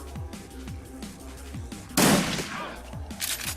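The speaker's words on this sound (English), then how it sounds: "Scatter shot comes in handy there." Scatter shot gunfire in the tactical RPG Shadowrun Returns, a single loud close blast about midway, standing out over a steady game background of repeating low pulses.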